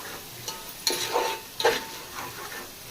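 Chicken mixed with biryani masala is stirred in a pan: a handful of distinct scraping strokes of a spoon against the pan, close and clear, over a faint sizzle.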